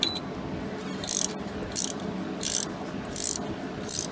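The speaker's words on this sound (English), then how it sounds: "I'm going to go ahead and get my wrench on here" A hand wrench ratchets on a bolt of a Nissan 3.5 L V6 engine, close, in short repeated bursts of clicking roughly every half second or so, with no voices.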